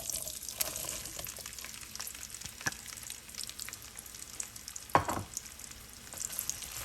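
Sliced onions sizzling in hot oil with whole cinnamon and cardamom for a tomato curry, a steady close crackling hiss with occasional stirring scrapes and clinks.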